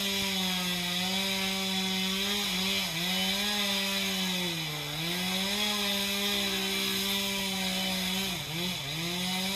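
Chainsaw cutting through a tree limb in a front yard, its engine droning loud and close with a steady pitch that sags and recovers several times as the chain bites into the wood.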